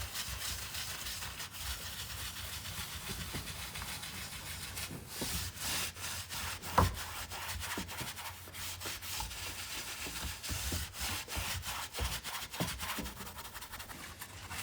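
Dark wax rubbed by hand onto the frame and edges of a wooden clock already coated in thick clear wax, a steady soft brushing friction with one sharp knock partway through, close up and with no talking.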